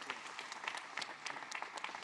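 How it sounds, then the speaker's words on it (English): Audience applause at a sustainability speaker series as a guest is welcomed; light, scattered clapping from a modest crowd, somewhat distant and faint. "So if you can give her a round of applause."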